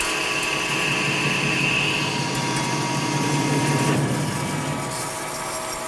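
A new Lion lathe takes a deep, aggressive cut, giving a steady loud metallic whine and grinding churn that shifts in pitch partway through.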